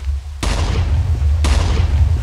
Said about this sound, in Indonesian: Kemudian ada suara ledakan.